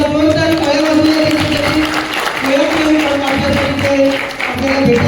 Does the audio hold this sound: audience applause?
yes